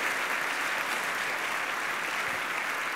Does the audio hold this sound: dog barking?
no